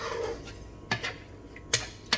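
A spoon scrapes and clinks against a pan while stirring green lentils with onions, a few sparse metallic knocks and scrapes spaced unevenly, close and moderately loud with no talking.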